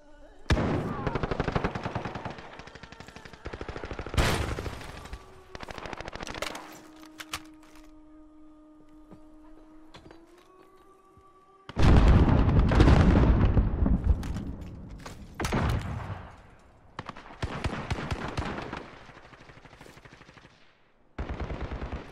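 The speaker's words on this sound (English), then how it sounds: "Gunshot." Heavy automatic gunfire rattles in dense bursts during a Call of Duty: Modern Warfare firefight, loud and close, pausing for a steady droning hum midway before the shooting resumes with booming impacts.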